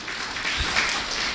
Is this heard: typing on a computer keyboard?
no